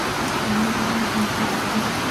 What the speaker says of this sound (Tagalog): Malakas pang ulan, oh.